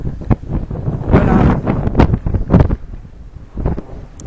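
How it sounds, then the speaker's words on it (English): Gusty wind buffets the microphone on the sandy Lake Michigan shore at Rogers Park, Chicago, in loud, uneven bursts with no clear speech. "it's windy"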